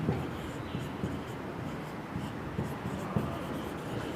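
Chalk or marker writing on a board during a Hindi chemistry lecture on the periodic table, soft steady scratching strokes against low room noise, close and quiet, with no speech.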